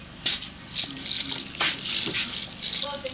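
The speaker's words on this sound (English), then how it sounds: "I added a little water to it." Water from a sachet is poured over dry beans in a mortar while washing them for moi moi and akara. It makes close, splashy gushing bursts that come and go over a few seconds.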